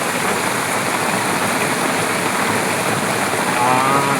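Rain drums on a car roof, heard from inside the car as a loud, steady, unbroken hiss, with a voice briefly audible near the end.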